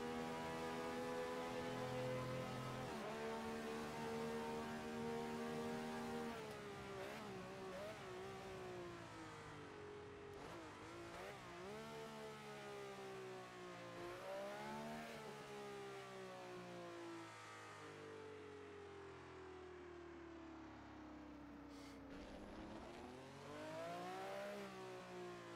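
A Ferrari 312/67 racing engine in a racing video game wails through repeated high revs, with rising and falling pitch as it shifts gears. The loud, sustained engine note runs throughout and no one speaks.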